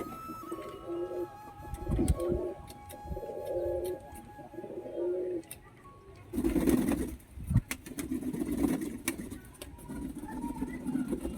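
Freshly bathed pigeons cooing nearby, with several soft, repeated coos in the first half, then a louder, rougher stretch of mixed background noise.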